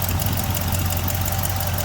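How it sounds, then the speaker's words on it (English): The engine of a 1964 Chevrolet Impala idles with a steady, loud low rumble and a constant even pulse, heard up close without interruption. "Solid sounding motor."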